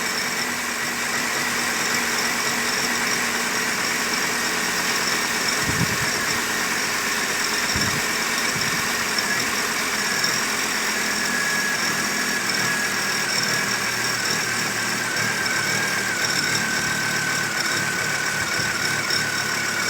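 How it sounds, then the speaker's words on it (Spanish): A car engine idles steadily after starting, with a constant mechanical hum and faint whine and a few soft knocks near the start, running alone without talk. "acá hemos arrancado el vehículo"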